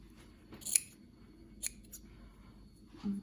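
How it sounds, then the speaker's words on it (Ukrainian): Scissors cut away excess fabric thickness at a seam while sewing trousers from a Burda magazine pattern. There are three or four quiet, crisp snips spread out in a hushed room. "Так, вирізаю зайву товщину."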